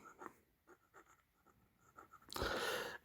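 A Conway Stewart lever-filler fountain pen with a 14 carat gold nib writes quietly on paper in soft, faint strokes, then a louder, sustained scratchy stroke near the end.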